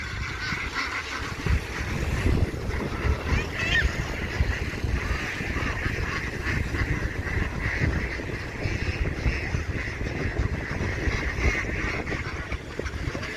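A large flock of ducks climbs out of the water after bathing, with constant overlapping quacks and honks and splashing filling the scene.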